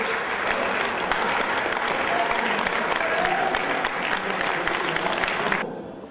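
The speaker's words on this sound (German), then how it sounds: "Mehr Applaus, mehr! Wir müssen klatschen," An audience claps steadily through a Christmas-night show in Germany, a dense, loud wash of applause that holds evenly before cutting off abruptly near the end.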